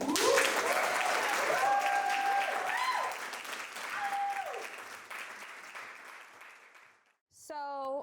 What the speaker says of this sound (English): a warm round of applause for Alex Wolf